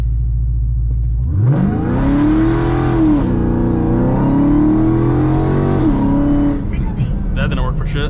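A Hellephant-swapped Chrysler 300 launches hard, its big engine climbing from idle into a loud, rising roar that holds and surges for several seconds before easing, with a voice speaking over the run.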